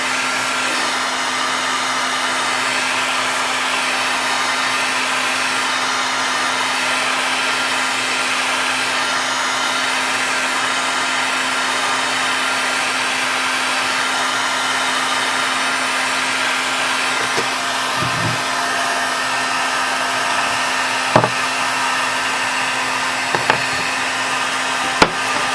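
A heat gun blows steadily and closely, a constant airy roar with a fixed hum, heating a Kydex sheet for a flashlight holster clip, with a few faint clicks and handling knocks near the end.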